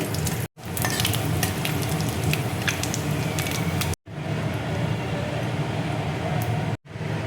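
Dried red chillies, bay leaves and whole garam masala spices frying in hot oil, a loud continuous crackling sizzle broken by two brief silent cuts.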